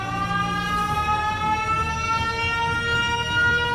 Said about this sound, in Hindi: अपना सायरन बजा देता है।